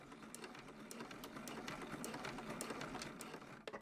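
A sewing machine with a zipper foot back stitches a seam on a purse, giving a faint, quick, even whirring stitch rhythm that runs steadily for several seconds.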